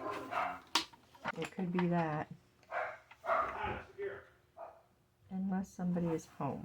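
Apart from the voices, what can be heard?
dog barking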